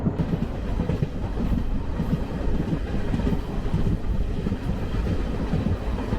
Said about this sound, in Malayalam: നമ്മൾ ട്രെയിനിൽ ഇപ്പോൾ യാത്ര ചെയ്തുകൊണ്ടിരിക്കുകയാണ്